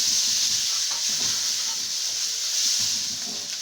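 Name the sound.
rice frying in groundnut oil to char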